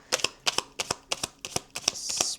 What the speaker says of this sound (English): we're going to do one more shuffle and then we'll take it off the top.